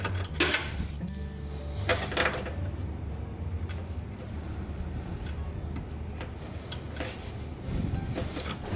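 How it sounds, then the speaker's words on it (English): A 12mm socket loosens a hinge bolt during a high-clearance fender liner modification, giving close, continuous scraping and ticking mechanical noise with a few sharper knocks. "with the 12mm socket, I'm going to go ahead and loosen up the top side of this hinge bolt"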